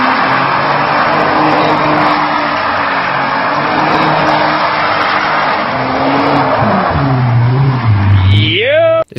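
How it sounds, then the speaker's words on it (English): An Audi TT Quattro spins all-wheel-drive windmill donuts, its engine droning steadily and loud near the mic with rising and falling pitch, ending in a sharp upward rev sweep before cutting off. "This madman does some all-wheel drive windmill donuts in his Audi TT Quattro."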